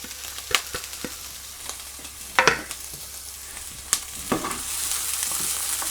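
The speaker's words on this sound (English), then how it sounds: "So I'll get the rest of these onions in." Onions frying in a pan for spaghetti bolognese, with a steady sizzle that thickens toward the end and a few sharp utensil scrapes and knocks scattered across it.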